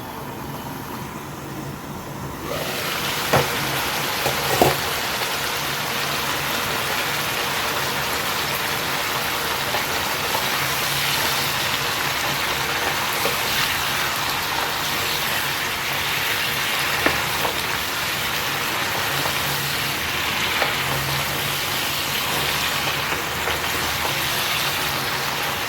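Katla fish curry sizzling and sautéing in a pan, a steady close crackle and hiss with occasional louder spits and scrapes, continuous throughout with no talking.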